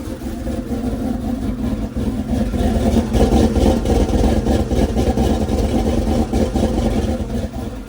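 A small-block Chevy V8 with an oversized cam runs loud and close, a rough, lumpy idle building into a sustained rev with a choppy, pulsing exhaust note throughout and no talking.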